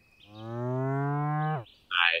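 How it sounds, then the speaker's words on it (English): A cow in the video game Deeeer Simulator gives one long, loud, drawn-out moo that rises and then cuts off, followed by a short burst of hissy game noise. "This is also a great cow sound effect."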